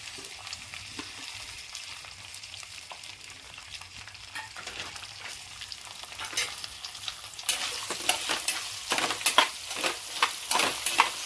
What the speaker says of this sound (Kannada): ಐದು ನಿಮಿಷ ಲೋ ಫ್ಲೇಮಲ್ಲಿ ಹುರ್ಕೊಂಡು ಇದೀಗ ಐದು ನಿಮಿಷ ಮೀಡಿಯಂ ಫ್ಲೇಮಲ್ಲಿ ಹುರ್ಕೊಂಡಾಗಿದೆ